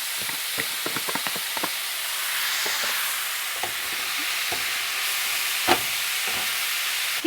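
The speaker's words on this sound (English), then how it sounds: "if you can hear me over the sizzling noise" Courgette pizza sauce sizzles and hisses loudly and continuously in a hot pan, with scattered crackles and pops and occasional stirring clicks.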